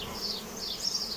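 Honeybees at a hive crowded with ten full frames make a steady, close buzz that rises and falls in pitch.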